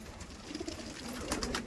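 Giribaz pigeons coo softly at close range, a few low throaty calls over a rustling background.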